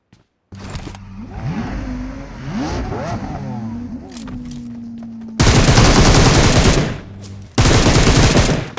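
Gunfire in an online shooter game comes in two loud, dense automatic bursts in the second half, preceded by engine revving and vehicle noise that rises and falls.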